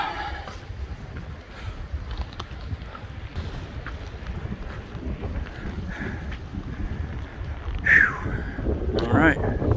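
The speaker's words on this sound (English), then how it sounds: "It's a little windy and chilly up here on this ridge top." Gusty wind buffets the microphone on an exposed Appalachian Trail ridge top near the New Jersey–New York line, a steady rumble with stronger gusts toward the end and faint rustling.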